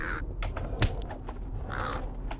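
Several crows caw in LotRO (Lord of the Rings Online), harsh calls repeating at irregular intervals among clicks and light combat noises from the game.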